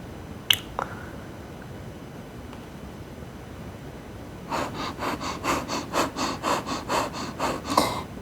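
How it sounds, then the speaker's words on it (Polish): Rapid yogic breath of fire during a Kundalini yoga session, a fast run of even, forceful breath pulses through the nose starting midway and continuing steadily, close and clear, after a quiet stretch with a couple of faint clicks. "oddech ognia kontynuujemy"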